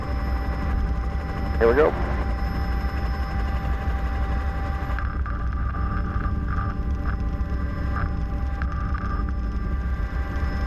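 A police aircraft's engine drones loud and steady from inside the cabin as it begins its takeoff, with a person speaking briefly over the constant rumble.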